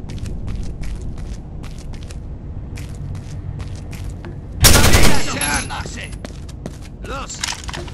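Rainbow Six: Vegas 2 fires off a quick string of sharp gunshot taps, then a loud, dense burst of automatic gunfire near the middle that trails into a rattling tail, with a voice heard briefly.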